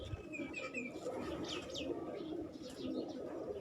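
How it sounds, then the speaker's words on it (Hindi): Pigeons on a rooftop loft coo continuously close by, with scattered chirps and tweets from other birds, steady ambient noise, and no talking. "ये देखें माशाल्लाह, ये सबसे बड़ा कबूतर है"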